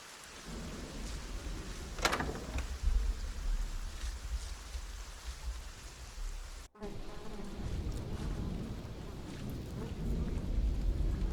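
Steady rain falls in a medieval setting from The Pillars of the Earth, a constant close hiss with a brief rumble, a sharp crack and a short dropout partway through.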